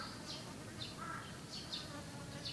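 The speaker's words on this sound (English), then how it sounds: "These are hoverflies." Hoverflies buzz faintly around, a soft continuous whine with a few brief higher passes, sounding much like bees in an outdoor setting in Japan.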